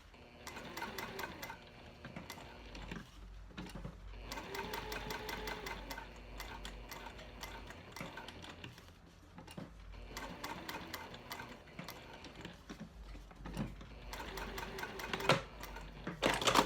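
A sewing machine stitches down a tag on a cork clutch in beige thread, running in several steady whirring bursts separated by brief pauses, close and clear with no talk.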